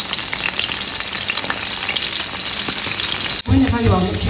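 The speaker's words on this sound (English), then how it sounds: "add my kobe or salted fish to the oil for frying" Kobe, a salted fish, fries in palm kernel oil with a loud, steady crackling sizzle close up, and a burst of brighter spitting near the end.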